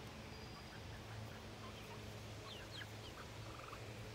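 Chickens clucking in a vegetable garden, a few faint soft clucks and calls scattered over quiet outdoor ambience, fairly distant and low in level.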